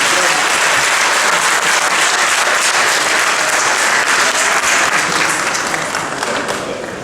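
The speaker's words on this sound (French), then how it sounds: "notre très cher ami, Bachir Kanouté, sous vos applaudissements." Loud, sustained applause from an audience at a formal African municipal event, a thick continuous roar of many clapping hands that tapers slightly toward the end, with no talking over it.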